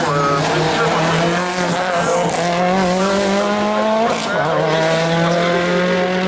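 A Lancia Delta Integrale rally car climbs a hill on a slalom course, its engine loud and close, the revs rising and falling steadily through the gear changes, with a short shift dip about midway through.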